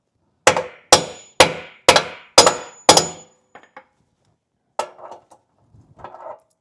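Six sharp metallic hammer blows ring out against a bushing being split open, evenly spaced, close and loud, followed by a few light clinks and scraping as tools are handled.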